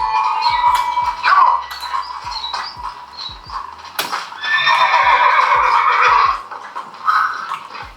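A horse in the video game Red Dead Redemption whinnies repeatedly while its hooves clip-clop in a steady rhythm, loud and close, with occasional game sounds in between.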